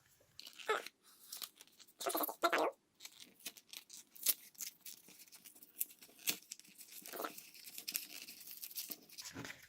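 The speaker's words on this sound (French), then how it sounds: "Donc nous allons commencer le déballage." A KeyForge card deck package being torn open, with several short bursts of ripping and crinkling plastic close up, separated by brief pauses and softer rustling.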